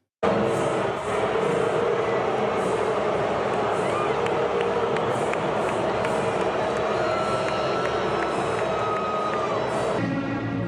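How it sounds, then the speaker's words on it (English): Taylor Swift being booed by a large crowd in a played-back recording, a dense continuous roar of jeering voices, steady and loud throughout, cutting off abruptly at the end. "here's Taylor Swift being booed"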